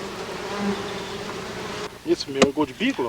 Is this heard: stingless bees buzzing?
yes